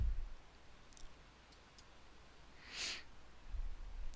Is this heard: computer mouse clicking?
yes